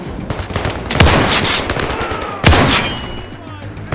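Shotgun fire in the virtual reality shooter Black Ops VR, two loud, booming blasts about a second and a half apart, each with a heavy close thump and a lingering noisy tail.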